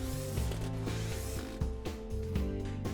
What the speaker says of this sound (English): Now secure using the 6 mirror screws.